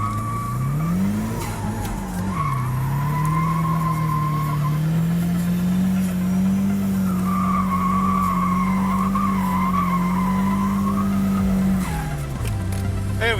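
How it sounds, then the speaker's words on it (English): A Nissan 180SX or Subaru WRX STI skids with a long, loud tyre squeal over a steady revving engine, the screech holding for several seconds, easing briefly, then returning before dropping off at the end. "I can do a skid though."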